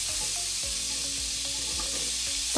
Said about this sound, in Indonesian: lalu kita tumis dengan menggunakan 1 sendok makan margarin.